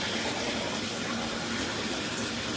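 Water runs steadily from a tap filling a bath or shower, a constant close hiss and gush without pauses.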